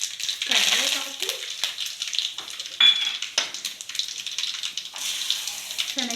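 Hot oil sizzling and crackling steadily as a tempering of asafoetida, turmeric, dried red chillies and curry leaves is fried for temple-style pulihora, with brief bursts of spitting and some background voices.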